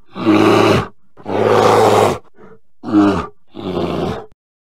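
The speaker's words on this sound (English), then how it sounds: "Bear." A bear roar from an animal sounds app comes in four loud, growling bursts, two long then two shorter, separated by brief pauses, close and alone with no talk.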